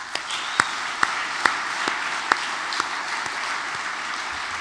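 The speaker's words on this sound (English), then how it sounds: "So maybe you'll join with me in giving them a round of applause." A round of applause from an audience at a commemorative Irish history event, dense steady clapping with a few louder individual claps standing out near the front.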